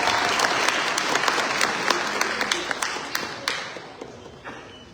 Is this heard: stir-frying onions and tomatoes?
no